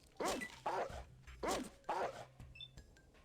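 A dog in the Fallout: Mutants Rising game gives four sharp barks in a quick, even rhythm, close and clear over a quiet background.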